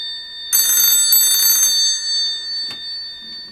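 A black Iskra ATA 11 telephone from Yugoslavia rings with its bell, giving one bright, loud metallic burst lasting about a second, followed by a short faint click after a pause.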